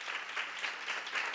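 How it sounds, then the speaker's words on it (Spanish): Audience applause at a school dengue-prevention training session, a steady dense wash of many hands clapping together for the whole short stretch, moderately loud with no voices over it. "Un aplauso para Eli, para Cori, para Gonza."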